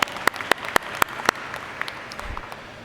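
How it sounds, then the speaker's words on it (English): Audience at an IHC forum panel discussion in Atlanta clapping for a panelist, a handful of sharp, close claps at first, then thinning into scattered quieter claps that trail off. "you've got to first give a round of applause to Eugene because he gave us wireless"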